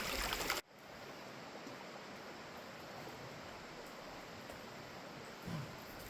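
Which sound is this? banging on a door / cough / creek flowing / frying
creek flowing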